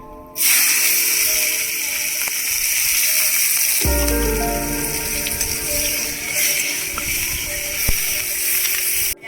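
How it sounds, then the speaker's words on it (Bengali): Onions hit hot oil in a village kitchen, a sudden loud hiss that becomes a steady, close, crackling sizzle for several seconds with occasional small pops. "এবার আমি পেঁয়াজগুলো দেবো তেলে"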